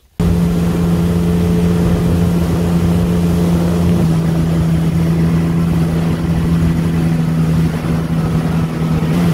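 Sea-Doo personal watercraft engine running on the North Saskatchewan River, a loud, steady drone with a strong low hum that holds throughout without breaks.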